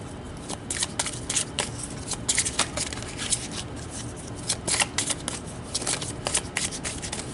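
Tarot cards being shuffled by hand up close, a continuous run of quick papery riffles and flicks in uneven bursts, with no voice over them.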